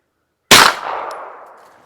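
A single sharp, loud report from a 9mm carbine firing a Winchester Q4429 standard-pressure 147-grain round breaks a silent moment, then fades through a long, rolling echo tail with no voices.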